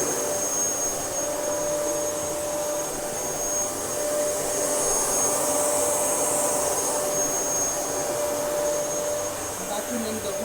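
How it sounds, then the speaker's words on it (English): A Dyson DC07 canister vacuum cleaner runs steadily throughout, a loud, continuous whine with a high-pitched motor tone over broad airflow hiss, swelling slightly in the middle. "I'm just going to vacuum it."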